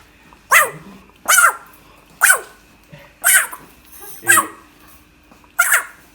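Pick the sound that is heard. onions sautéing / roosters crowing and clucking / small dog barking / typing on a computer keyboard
small dog barking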